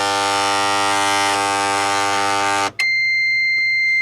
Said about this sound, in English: Okay, now that is the sound of the paper feed.